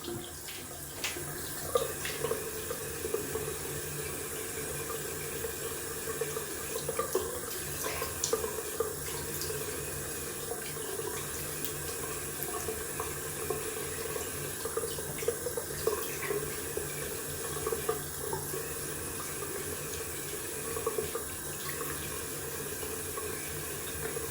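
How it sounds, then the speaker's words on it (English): A bathroom tap runs steadily with cold water for rinsing after a wet shave, a constant close splashing stream broken by small irregular spatters throughout. "Gonna rinse off with cold water."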